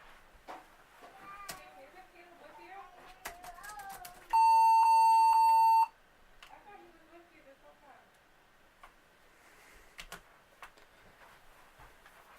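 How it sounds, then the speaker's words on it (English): A computer starting up after a missing-bootloader fault sounds a steady high electronic beep code lasting about a second and a half, with a faint flicker in the middle, loud and clear, set between stretches of talking. "I got a little beep code errors, so it's starting up again."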